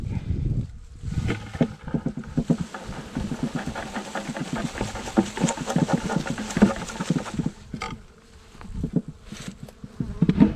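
Dense, continuous buzzing of many honeybees in a swarm fills the scene, a loud droning with fluctuating intensity and occasional louder passes close by.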